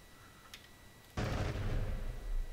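Machine-gun burst from a P-51D Mustang in the DCS World flight simulator: after a quiet stretch, a sudden loud, sustained rattle of gunfire erupts and continues to the end, dense and close.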